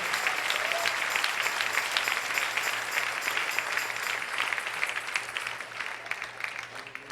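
A large congregation claps steadily and loudly at a church service, a thick continuous applause with a faint low hum underneath.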